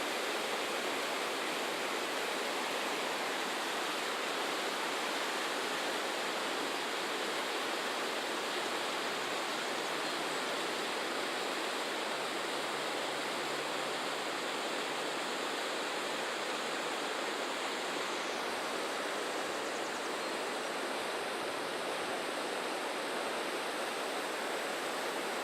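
Water pours steadily over a river dam on the Mississippi headwaters, a constant broadband rush with no breaks, heard alone at a moderate, even level.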